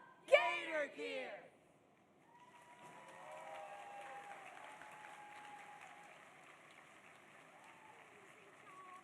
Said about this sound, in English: Let's hear one more round of applause